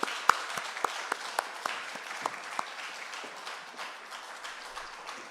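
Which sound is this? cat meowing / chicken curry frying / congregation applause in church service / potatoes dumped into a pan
congregation applause in church service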